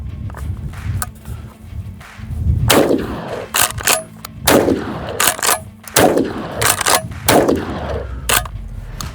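A lightweight McCoy PAS pump shotgun fires Federal 7.5 bird shot in several sharp, loud blasts a second or two apart, with clacking pump actions and metallic clinks between shots.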